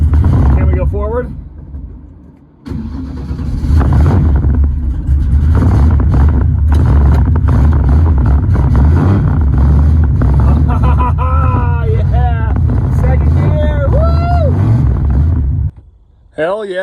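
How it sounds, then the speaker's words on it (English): A car with a rebuilt American Powertrain transmission pulls off on a test drive, its engine roaring loudly and revving up through gears while people talk over it, before cutting out near the end. "It's time to let this thing down, take it for a test drive."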